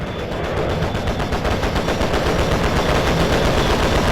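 Loud, dense battle noise from a fighter-plane combat video game as a bomb strikes a group of tanks: a continuous rapid rattle of blasts with no pause.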